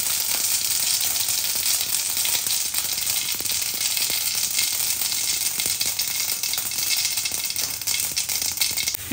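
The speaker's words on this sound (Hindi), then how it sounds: "मैंने इसमें उस तेल में और राई में ये दोनों जो कसा हुआ था मेरा मैंने डाल दिया है" Grated vegetables dropped into hot oil with mustard seeds sizzle loudly and steadily, a dense frying hiss with light crackles that runs unbroken throughout.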